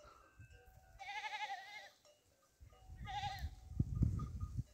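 Goats bleat in two separate wavering, drawn-out calls from close by at a rural spring, with quiet outdoor background and some low rustling between them.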